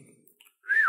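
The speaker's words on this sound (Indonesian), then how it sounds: "Oke, dan saya bersiul." A person whistles to locate a misplaced phone, giving one rising-then-falling whistle near the end after a quiet start with faint background murmur.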